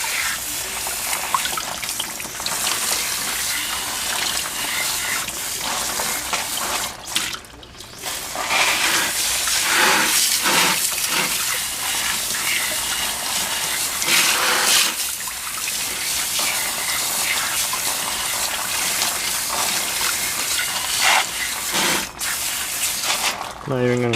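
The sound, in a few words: water spraying to wash drum brakes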